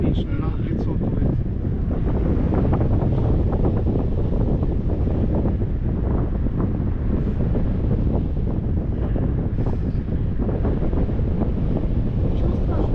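Strong wind roars steadily and loudly across the microphone during a tandem paraglider flight over fields near Kunda, Estonia, a constant buffeting rush with no let-up.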